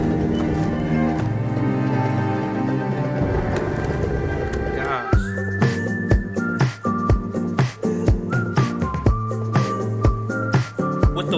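A whistled melody from a song rises and steps through eerie sustained notes over a sharp, evenly spaced percussive beat that enters partway through.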